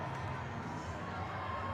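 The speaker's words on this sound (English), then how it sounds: "Huge applause from the Oxford fans" Oxford fans applauding and cheering in the stands at a women's Varsity rugby match against Cambridge, a steady dense crowd roar that stays level throughout.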